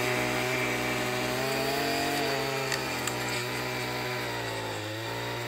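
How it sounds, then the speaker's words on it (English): Gas-powered edger cutting a shallow trench in wooded ground along a woven wire farm fence line, a loud continuous engine whine with a steady droning hum, close and unbroken throughout. "I brought the edger to create a little trench so we can get that fence tight to the ground"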